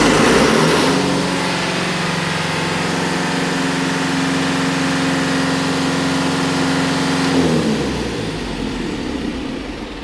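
A Tornatech fire pump's diesel engine runs loud and steady after cranking, a droning, humming roar that holds for several seconds before easing off toward the end.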